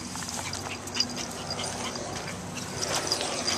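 A dog gives short, sharp barks and yips over a noisy background, nearby and moderately loud.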